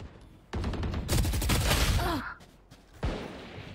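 Gunfire in the video game Valorant: a rapid burst of shots, a louder sustained volley with a whizzing effect, then a single sharp report after a short pause.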